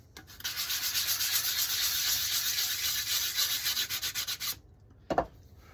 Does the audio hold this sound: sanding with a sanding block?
yes